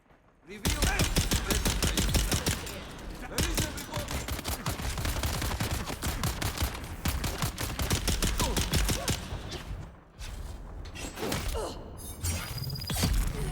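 Pistol fire in the Dune game on Arrakis: fast, loud repeated shots in dense volleys, running almost without a break, with a brief lull partway through.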